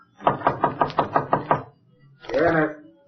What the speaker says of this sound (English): He knocked on the door of room 12.